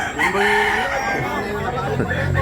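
Crowing from a rooster at a wet-weather chicken market in Tabunok, Cebu, a loud, wavering call near at hand, layered over market murmur and other birds clucking.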